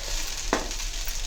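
Spices sizzle in hot oil as a tempering for upma. A steady fry hiss is broken by one sharp crackling burst midway, with no voices.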